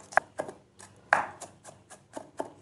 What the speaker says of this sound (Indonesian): Geprek kemudian cincang halus seperti ini ya teman-teman